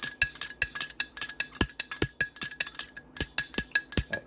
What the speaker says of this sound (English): My stirring got a little more vigorous there.